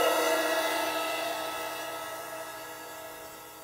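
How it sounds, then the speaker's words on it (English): Sizzle cymbal with a bath chain attached, struck once. It rings out close with a bright, buzzing, shimmering wash that slowly fades, with no voices. "often you can get a cymbal that's called a rivet cymbal or a sizzle cymbal"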